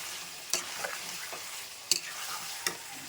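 Potatoes frying in spiced masala in a wok give a dense, continuous sizzle. Three sharp scrapes of stirring cut through it, recorded up close with no talking.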